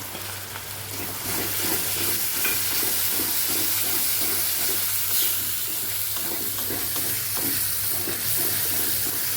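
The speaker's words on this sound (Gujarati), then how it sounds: "આદુ મરચાંની પેસ્ટ સતળાઈ ગઈ છે તો અહીંયા ટમેટાની પ્યુરી ઉમેરી દઈશું આપણે" Tomato puree fries in a pan with ginger-chili paste, giving a steady, loud sizzle and soft bubbling throughout, no voices.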